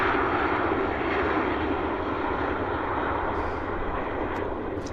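A passenger airplane flies from Victoria to Vancouver, its engines giving a steady, loud, unbroken roar throughout.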